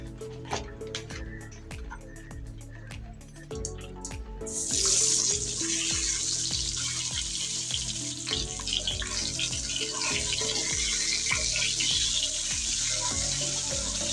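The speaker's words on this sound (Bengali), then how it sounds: "এইটা আমি ডিমগুলো ভালো করে ভেজে নেব এখন" Light clinks and taps give way to a loud, steady sizzle of boiled eggs coated in spices frying in hot oil that continues without a break.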